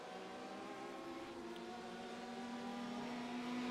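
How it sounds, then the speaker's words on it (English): Mercedes GT3 race car with a big low-revving V8 in a sim racing game, a steady droning engine note building gradually in pitch and loudness over a few seconds. "the Mercedes has just got this. It's a big V8, low revving."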